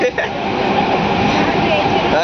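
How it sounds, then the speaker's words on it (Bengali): A train pulls into a station with a loud, continuous rumble and rattle of rail cars filling the whole stretch, under a dense background hum. "এই তো ট্রেন আসছে, ট্রেন।"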